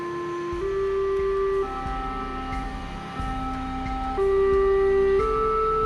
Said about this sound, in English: The all-clear alarm is a Westminster signal that sounds like this.